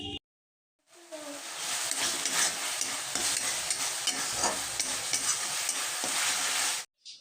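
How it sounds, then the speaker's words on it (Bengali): Spice masala frying in a pan with a splash of water for a cauliflower dish, bursting into a loud, steady close sizzle that cuts off abruptly after several seconds. "তো হালকা একটু জল দিয়ে মশলাটাকে খুব ভালোভাবে একটু কষিয়ে নেব।"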